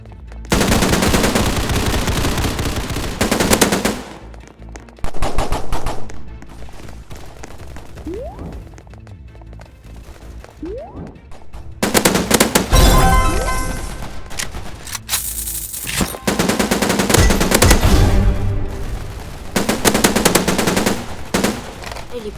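Rapid automatic gunfire from the shooter video game Hypershot, coming in several loud bursts separated by short pauses, with quieter game sounds in the gaps.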